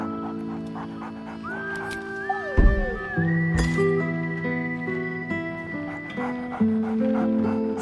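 A dog named Scratch in the Baldur's Gate 3 video game gives a few short merry barks amid a soft musical game score, with a brief clatter near the middle.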